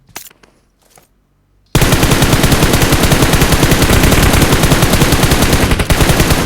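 Sustained automatic gunfire from a PUBG Mobile match bursts in loud and close after a brief quiet opening, a rapid unbroken stream of shots that continues to the end.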